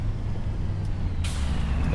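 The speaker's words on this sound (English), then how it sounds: "We'll get the truck parked" A truck parking at a farm releases its air brake, a sudden loud hiss bursting in over a low idling engine rumble, close and continuous to the end.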